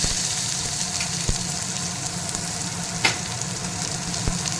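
Chopped onion and curry leaves fry in hot oil with a constant, close sizzle, broken by a few sharp taps of a spoon against the pan as they are stirred.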